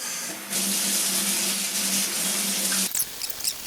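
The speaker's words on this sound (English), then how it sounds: "now I turn off the water" Water running from a kitchen tap while a cutting board is rinsed, a steady close hiss and splash that cuts off abruptly near the end, followed by a few faint drips and clatters.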